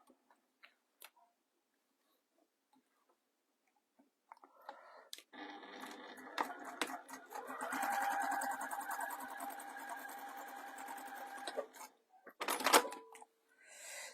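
Sewing machine stitching through faux leather for a bag, running in a steady mechanical stretch of about seven seconds after a few soft clicks, ending with a short burst and clatter.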